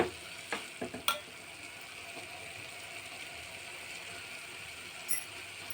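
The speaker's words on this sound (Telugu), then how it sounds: "ఒక మందపాటి గిన్నెలో మగ్గనిచ్చి కాస్త మగ్గిన తర్వాత చక్కెర వేసి దగ్గర అయ్యాక పాలు వేసి ఇలా దగ్గరగా అవనివ్వాలి" Carrot halwa with sugar and milk is stirred in a thick pan, giving a few scraping clicks of the spoon over a faint, steady simmering hiss.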